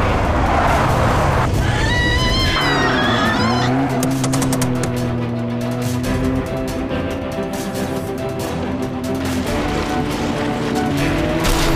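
A car skids to a stop with the handbrake pulled during a tense driving scene, tires squealing loudly over a steady engine roar that runs the whole way, with a voice briefly heard early on.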